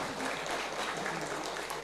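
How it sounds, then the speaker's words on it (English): Audience applause for the speakers at a nursing international short course on tropical and infectious disease: a short, soft, even spell of clapping in a hall, heard at some distance. "Please give applause to our speakers."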